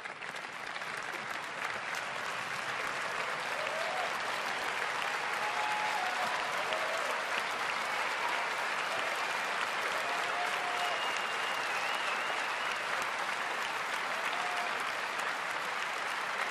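Sustained applause from a large audience at an Apple conference, steady and dense throughout with faint scattered whistles, no talking over it.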